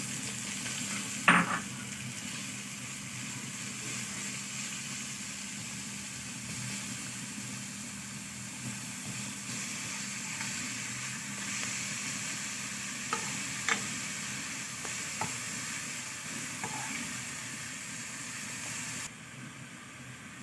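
Chopped garlic and minced coriander fry in a pan while being stirred, giving a steady low sizzle throughout with a few soft utensil clinks, for a taro dish.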